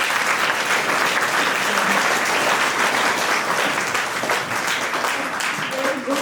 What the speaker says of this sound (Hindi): एक बार जोरदार से तालियां बजाओ इनके लिए